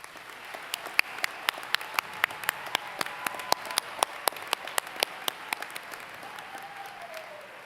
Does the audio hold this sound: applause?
yes